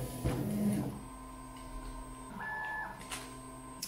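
A DIY CoreXY 3D printer homes its axes: stepper motors whine in steady pitched tones that shift and stop in turn, with a soft click or two, close and fairly quiet.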